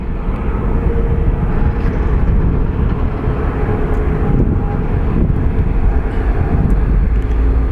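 Airplane taking off from Phoenix Sky Harbor airport, a loud, sustained roaring jet engine rumble with heavy low-end and wind buffeting, steady throughout with no talking.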